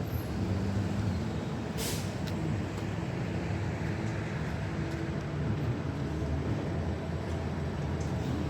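Traffic sound on a downtown Halifax street near the waterfront, with a truck or bus letting off a brief hiss of air brake early on over a constant loud roar of passing vehicles.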